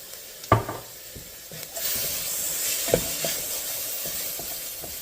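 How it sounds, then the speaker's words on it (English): Spices and Worcestershire sauce sizzle in a soup pot as they are stirred, a soft hiss with a few sharp knocks and scrapes of the spoon against the pot, close by and without talk. "Just give that a quick stir to let the spices diffuse throughout."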